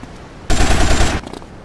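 Rapid automatic gunfire in the video game GTA Vice City Stories bursts out loud for about a second as a dense rattling volley, then cuts off abruptly, with a few faint clicks after it.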